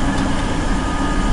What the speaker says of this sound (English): Hop on the train to Edwin, right?